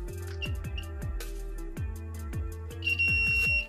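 A DT830B digital multimeter with an added buzzer sounds short, repeated electronic beeps with clicking contacts, ending in a sustained higher tone, fairly quiet and close, with no talking.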